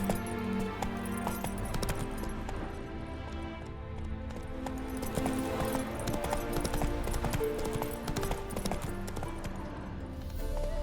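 A horse gallops in The Witcher 3, with rapid rhythmic hoofbeats that carry steadily throughout over game background sound.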